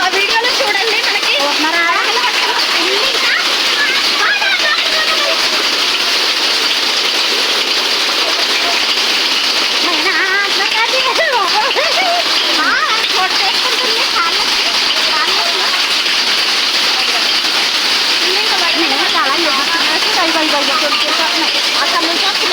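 Heavy hailstorm with rain in Hyderabad: a dense, steady roar of hailstones and water splashing and pattering on surfaces continues throughout, with people talking over it.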